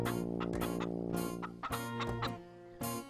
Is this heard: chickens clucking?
yes